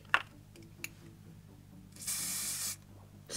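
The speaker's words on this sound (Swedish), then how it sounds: "Kanske jag ska spraya lite i min rygg." An aerosol spray can hisses in one steady burst of under a second onto someone's back, close and fairly loud, after a few faint mechanical clicks, with a short second spurt starting at the very end.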